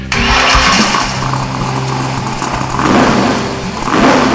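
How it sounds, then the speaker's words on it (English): Classic car and hot rod engines crank and fire up at the start of a rally ride, then rumble and rev loudly up close, with throaty idling between swells of acceleration. "ladies and gentlemen, start your engines."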